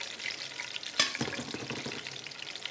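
Chicken stew stirred in a hot pot, a soft broadband bubbling sizzle running throughout with a sharp scrape or clunk of the spoon against the pot near the start, close and fairly quiet.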